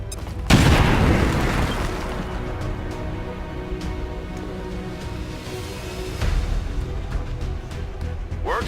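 A grenade blast in the video game XCOM 2, a sudden loud boom early on that rolls into a long rumbling decay, followed by a second softer thud near the end, with no talk.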